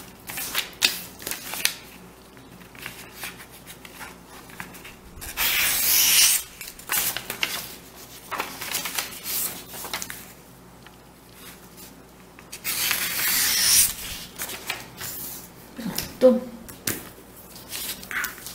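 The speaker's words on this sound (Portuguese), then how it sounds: "Eu vou cortar tudo aqui com o cortador." A craft cutter slices paper for an origami envelope, making repeated scraping, rasping strokes in several bursts, close and fairly quiet.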